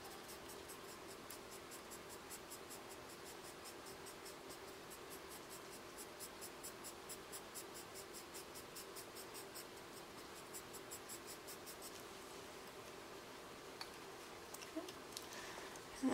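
Soft charcoal pencil shades on paper for a longhaired cat drawing, a steady close scratchy rasp of rapid rhythmic strokes continuing without pause, fairly faint.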